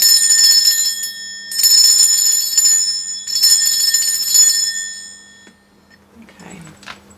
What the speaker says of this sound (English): am going to be ringing this bell just to cleanse the space around us